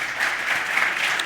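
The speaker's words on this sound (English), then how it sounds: "So let's do another round of applause for these guys." Audience applause for panelists at a Slack team-culture event, a short dense burst of clapping at steady level.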